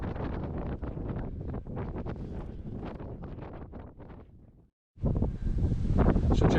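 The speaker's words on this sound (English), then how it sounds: "It's so windy here." Strong wind on a beach buffets the microphone in a steady, loud roar that cuts out briefly, then returns just as hard.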